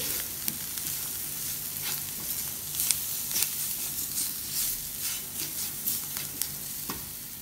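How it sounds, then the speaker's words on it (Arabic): Spiced masala vegetables sizzle steadily in a hot pan, with occasional scraping and clinking as they are stirred, close by and with no talking. "تشويحة بسيطة جدا على النار"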